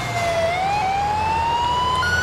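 An emergency vehicle siren in GTA IV sounds a thin, steady electronic tone that climbs slowly in pitch and then jumps higher near the end, loud and close over a low engine rumble, with no talking.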